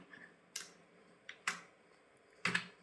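A keyboard is used to enter a verification code on a voter enumeration form, heard as three or four sharp, isolated key taps spaced about a second apart in an otherwise quiet room.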